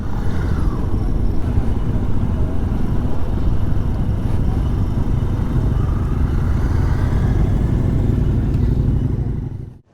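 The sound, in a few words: Benelli TNT 125 motorcycle riding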